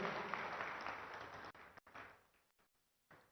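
Applause from the crowd at a state ICT policy inauguration at HICC, a dense wash of clapping that thins and fades out within a few seconds, faint and distant, with a few scattered claps at the end.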